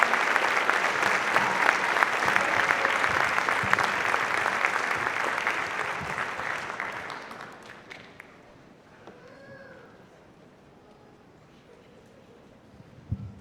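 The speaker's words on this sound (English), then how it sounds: "more big round of applause for the Woodwind Choir" Audience applause for a woodwind choir at a memorial band concert, a loud sustained wash of clapping that fades over several seconds into quiet room murmur with faint voices.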